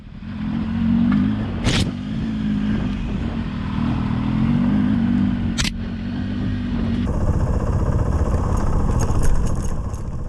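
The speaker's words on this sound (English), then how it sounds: "And the sounds of those engines and mufflers. These bikes all had great sound." Motorcycle engines rumble steadily nearby, a low throaty exhaust drone that swells slightly, with a couple of sharp clacks over the noise.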